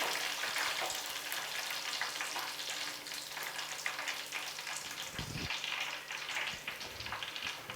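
Green chicken fry sizzling in hot oil: a steady, dense crackle and hiss throughout, with a brief stirring clatter partway through.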